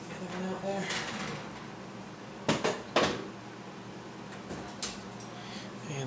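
A homemade shrimp pizza comes out of a home oven, with a couple of sharp clunks and rattles of the oven rack and pan over a low kitchen hum as someone talks nearby.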